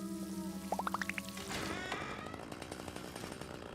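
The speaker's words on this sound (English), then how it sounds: "Big chainsaw." A big chainsaw roars to life after a quick series of rising chirps, then runs steadily with a buzzing, gritty drone for a few seconds.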